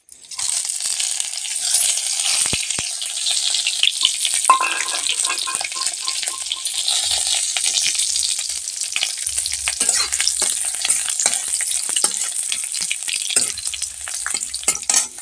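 Ginger, onion and bay leaf crackling in hot oil for a cauliflower curry tempering, a loud, steady, close sizzle that runs unbroken the whole time with occasional stirring scrapes.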